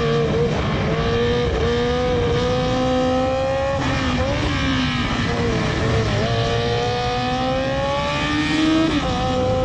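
Onboard sound of a 1000cc Formula 3 race car at Le Castellet circuit in France: a loud, sustained high-pitched engine scream rising and dropping through gear changes across the whole stretch, with no voices.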